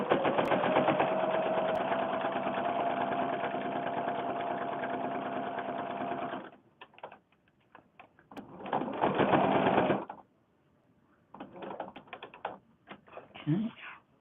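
A sewing machine stitches a fabric book in a long run of rapid, close mechanical chatter, then stops and starts in several shorter bursts separated by quiet pauses.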